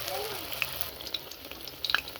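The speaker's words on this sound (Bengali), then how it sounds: "ভাজা হচ্ছে" Pumpkin flowers coated in gram-flour batter fry in hot oil, a continuous close hiss and crackle with small popping spatters throughout.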